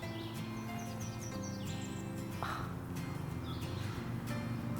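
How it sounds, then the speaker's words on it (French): Birds sing at a campsite, with several short chirps and whistled phrases scattered over a steady low background hum from a distant highway. "Entends-tu les oiseaux?"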